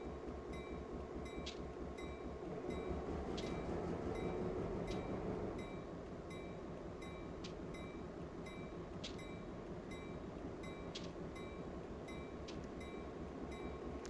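A locomotive reverses slowly through a rail yard in Train Simulator 2014 on the Stevens Pass route, giving a steady low engine rumble that swells briefly, with evenly spaced rhythmic clicks of wheels over rail joints.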